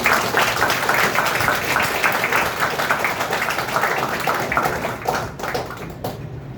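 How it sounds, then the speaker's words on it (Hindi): Audience at a school workshop clapping for the speaker, a loud dense patter of many hands that holds steady, then thins and fades toward the end. "तो एक बार सर के लिए दोबारा से जोर से आप तालियां बजाएं"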